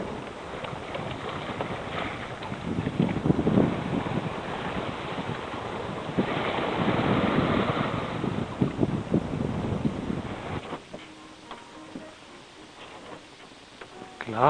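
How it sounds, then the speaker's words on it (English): Wind and waves surround a single-handed sailboat in the Southern Ocean under a steady northerly breeze, a continuous broad rush with swells rising and easing before dropping to a quieter, calmer wash near the end. "We've got an absolutely perfect breeze. Wind coming out of the north now."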